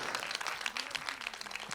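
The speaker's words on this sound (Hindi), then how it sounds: "एक बार जोरदार ताली होनी चाहिए पूरी टीम को" Audience applause for the team at a song launch event, dense and continuous clapping from a crowd, moderately loud throughout a brief stretch.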